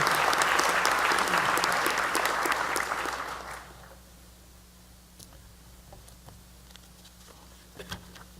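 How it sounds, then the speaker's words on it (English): An audience at the presidential inauguration at Reading Area Community College gives a round of applause, dense clapping for about three seconds before it fades to scattered claps and a quiet room. "So if you could briefly give a round of applause for them."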